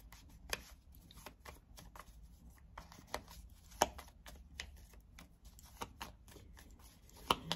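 Tarot cards being shuffled by hand, a steady run of soft riffles and flicks with occasional sharper snaps, close and alone without talk.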